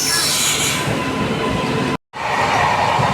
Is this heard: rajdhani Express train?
yes